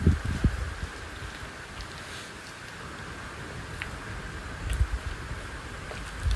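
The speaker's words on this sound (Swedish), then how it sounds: "Kommer undan vinden och regnet." Steady, soft rain patters throughout on a wooden wind shelter, with a few closer rustles and taps now and then.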